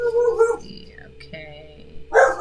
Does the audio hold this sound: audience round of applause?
no